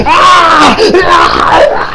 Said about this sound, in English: and then he starts screaming out in pain